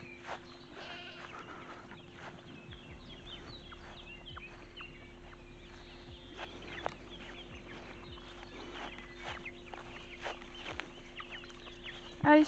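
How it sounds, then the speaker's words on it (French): Chickens pouring out of a henhouse as it is opened, with scattered clucks and soft calls over steady farmyard ambience and a few knocks and rustles, no talking. "Forcément, on ouvre un petit peu de poulailler, tout le monde sort."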